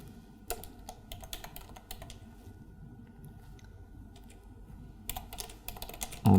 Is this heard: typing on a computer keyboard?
yes